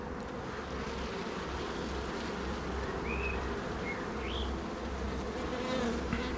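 Honeybees buzz densely inside a hive with a cracked honey super body, a steady, close, continuous drone, while a small bird chirps faintly a few times in the background.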